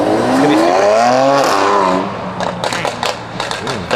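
Mercedes car engine revving loudly at a St. Louis car meet, a rising then falling rev sweep up close, followed by quieter engine rumble under scattered voices and bursts of noise.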